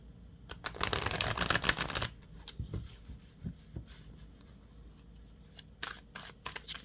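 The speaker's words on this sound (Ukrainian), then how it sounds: "Дуже добре тасуються карти" A tarot deck is shuffled by hand, the smooth cards sliding past one another in a quick soft riffling burst, followed by a few faint taps and clicks, quiet and close with no voices.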